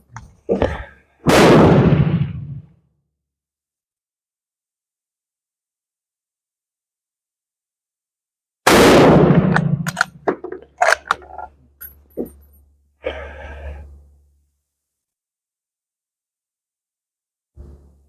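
Enfield No5 MK1 rifle firing outdoors, a few sharp loud shots standing alone with quiet gaps between them, followed by short metallic bolt and mechanism clicks.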